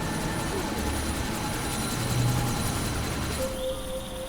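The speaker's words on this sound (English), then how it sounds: "That chopper's about to take off!" A helicopter in the video game Deus Ex: Mankind Divided whirs steadily with rotor chop and engine hum, loud and continuous throughout, with a tonal whine rising near the end.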